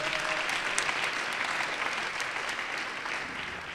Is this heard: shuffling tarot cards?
no